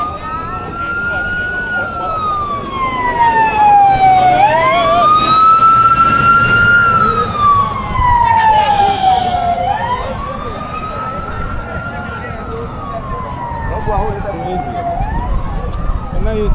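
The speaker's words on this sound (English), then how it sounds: "It's an ambulance." A loud wailing ambulance siren sweeps slowly up and down in pitch, close by, with traffic rumble underneath, during tax protests in Kenya.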